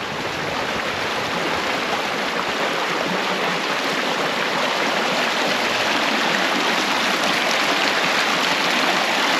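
A river rushes past stepping stones on the Erskine Falls loop walk, a loud, steady, broadband wash of flowing water that continues unbroken and close by, with no talking.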